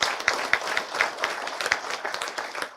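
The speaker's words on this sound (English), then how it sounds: "So let's give both of those a big round of applause." A room full of people clapping during a Scottsboro State of the City address, the applause somewhat sparse with distinct individual claps standing out over about three seconds.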